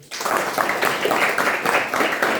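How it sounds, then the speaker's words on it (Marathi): An audience at an NSS camp lecture at a pharmacy college claps for the girls, a steady dense burst of applause starting abruptly and continuing throughout. "तुमच्यासाठी तुम्ही जरा टाळ्या वाजवा मुलींना"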